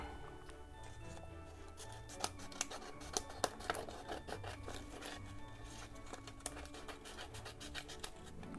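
Scissors trimming a piece of vellum paper for a penguin place card, giving steady close scraping and snipping with a few sharper cuts, no voices over it.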